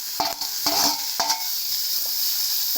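Tomatoes sautéed in a pan, stirred with several sharp scraping strokes early on over a continuous bright sizzle that carries on alone to the end.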